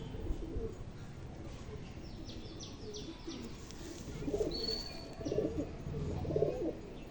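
Pigeons, including a 17-year-old bird of an old line, coo in low soft rolling phrases that swell and fade, with a few faint chirps and a rustle nearby.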